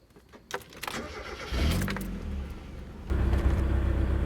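A car engine is cranked and fires up after a wideband O2 sensor install, with a few clicks and starter whir before the motor catches and settles into a steady, loud idle that rises once more near the end.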